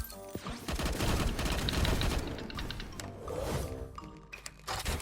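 A Holy Light Box skill effect from the Escape Boy mobile game, a dense rapid crackling barrage of bursts and impacts, loud and continuous with a few sharp hits near the end.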